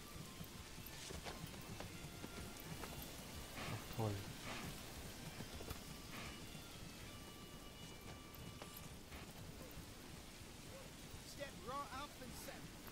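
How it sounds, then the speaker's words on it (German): Rain falls in the medieval city-building video game Manor Lords, a steady dense hiss of downpour with scattered drips and faint clip-clop, running continuously under a voice talking. "Es regnet."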